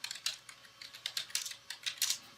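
Quick, light clicking of keys on a computer keyboard, with about a dozen irregular taps in a short burst, close and fairly quiet, with no voice.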